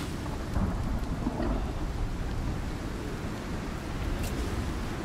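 Steady downpour in the survival video game Icarus, a dense continuous hiss of rain with low rumbling underneath, fairly loud and unbroken throughout, with no talk.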